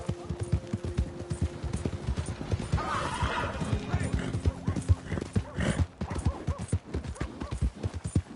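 A horse in Red Dead Redemption 2 clops along with repeated hoofbeats, giving a loud whinny partway through, while game voices and ambient sound carry underneath.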